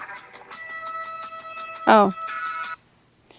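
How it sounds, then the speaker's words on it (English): A mobile phone goes off at a vintage car show, sounding a repeating electronic ringtone of bright tonal beeps and chirps; a man briefly exclaims partway through before it cuts off. "hang on, my phone just going off."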